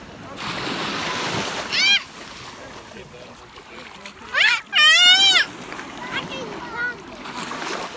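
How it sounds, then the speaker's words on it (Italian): Rough sea surf washing onto a beach, a steady broadband wash that swells and churns throughout, with people talking loudly over it. "Il mare si sta agitando, era calmo, adesso ci sono le onde."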